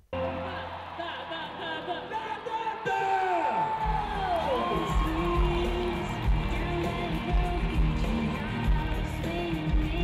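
A stadium crowd at a concert at Slavutych-Arena in Zaporizhzhia cheers and whoops for a marriage proposal, a loud, dense roar of many voices that swells midway and carries on steadily to the end.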